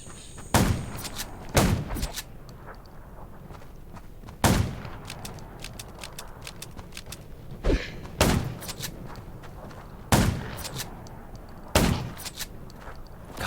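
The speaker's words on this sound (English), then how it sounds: "Gunshots will attract more." Gunfire in the mobile zombie-survival game Undawn: about eight loud, sharp shots fire in irregular single bursts over several seconds, each with a booming tail, with no talking.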